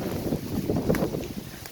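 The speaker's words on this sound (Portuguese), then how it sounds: "Vento muito forte mesmo. Olha aí como é que tá o vento" Strong gusty wind blows outdoors in Ribeirão das Neves, Minas Gerais, as rain approaches. Rough, buffeting noise swells and fades over a short stretch, loud and close against the microphone, with no talking.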